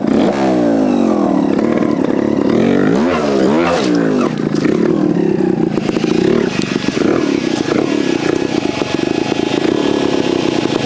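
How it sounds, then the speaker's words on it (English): A Vertigo Nitro JBR 300 two-stroke trials bike pulls away gently uphill in second gear on a steep climb, its engine loud and close, revving and rising steadily with some clatter throughout. "Pulling off nice and gentle using the bottom end torque of the Nitro and up that very steep climb."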